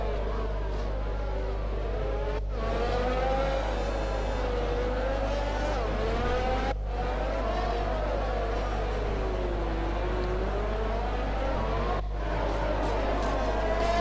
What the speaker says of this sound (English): Listen to the Mercedes cars, absolutely roaring.